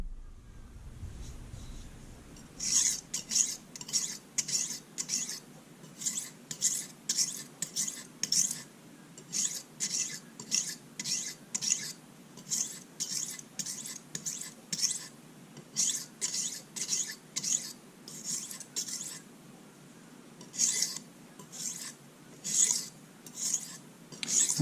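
A kitchen knife is sharpened on a natural whetstone: rhythmic scraping strokes, dozens of them in steady bursts, close and fairly quiet, with no talk.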